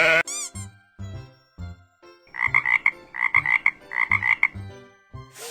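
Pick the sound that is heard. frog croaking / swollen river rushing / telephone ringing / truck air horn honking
frog croaking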